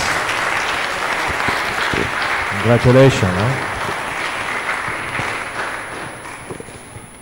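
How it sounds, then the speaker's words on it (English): A church congregation gives a warm round of applause for newly inducted ministry members at a Lenten Sunday Mass, steady clapping from a large indoor crowd with a brief spoken voice over it. "Let us give our newly inducted members a warm round of applause."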